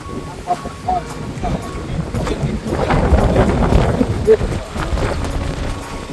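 Wind blows across an open off-road trail at Red Rock in New Zealand, a loud rumbling buffet on the microphone that swells in the middle and persists throughout.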